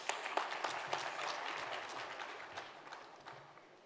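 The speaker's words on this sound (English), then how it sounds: "A round of applause for Ashish Thacker." Applause from the audience at the Africa Investment Forum 2018 closing ceremony, fairly distant and quiet, with individual claps standing out and the sound gradually thinning as it fades.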